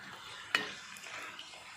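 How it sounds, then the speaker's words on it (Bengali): A pea-stuffed kachori drops into hot oil with a sharp splash, then a soft, even frying sizzle carries on close by at low volume, no talking. "তেলটা কিন্তু গরম হয়ে গেছে। আমি এবার একটা তেলের উপরে ছেড়ে দিচ্ছি।"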